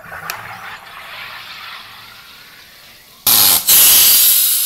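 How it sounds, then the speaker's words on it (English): A SodaStream carbonating water from a full CO2 cylinder: a faint hiss first, then a loud, steady rush of gas that breaks briefly and resumes, near and with no talk. "The bubbles don't look or sound right when you're carbonating."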